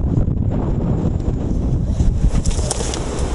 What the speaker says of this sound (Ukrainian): Ми їдемо проти вітру, хоча він час від часу міняється, але дуже потужний.